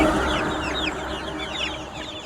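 Farm-raised chickens cluck and chatter softly in a short, continuous stretch of overlapping calls heard close by.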